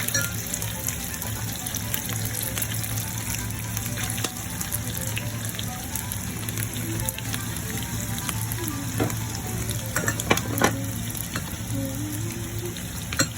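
Homemade calamari frying in very hot oil, a dense steady crackle and sizzle running the whole time with a low hum underneath and a few brief clinks near the end.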